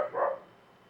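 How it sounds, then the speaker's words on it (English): A single short dog bark, muffled and somewhat distant, fading quickly into quiet. "My dog's barking."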